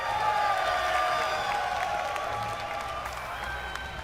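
Crowd at a Red Bull Battle Grounds esports fighting-game event in New York City cheering and applauding loudly and continuously, with dense clapping and scattered whoops filling a large venue.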